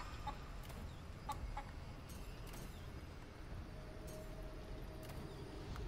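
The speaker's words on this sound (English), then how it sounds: "Chicken!" Faint chicken clucks from the video game Necropolis, a few short scattered clucks sitting low over a steady background hum, with no talk.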